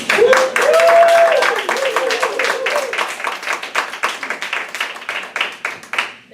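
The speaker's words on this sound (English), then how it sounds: "Let's welcome and give a round of applause." An audience at a Toastmasters meeting applauds to welcome a speaker, moderate clapping that starts full, then thins into distinct, individual claps fading toward the end, with a brief voice near the start.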